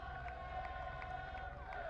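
Football supporters at an NPL semi-final between Lions FC and Olympic FC, a steady distant crowd roar with chanting voices carrying through the stadium, continuous and even across the whole stretch.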